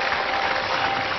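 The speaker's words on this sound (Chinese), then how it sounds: "我们掌声再鼓励一下他的勇气吧。" Audience applause at a studio emotional-mediation show, a dense steady wash of clapping heard alone and close throughout.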